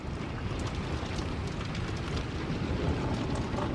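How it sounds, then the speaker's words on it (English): Cold, gusty outdoor wind during a severe storm with gusts near 55 mph, roaring as steady broadband buffeting against the microphone, loud and continuous with no voices. "that wind's cold."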